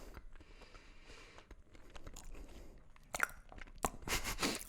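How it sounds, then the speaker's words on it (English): Close crunchy chewing of a triple chocolate cookie, irregular bites and mastication growing louder toward the end, with no talking. "Sorry for the chewing noises."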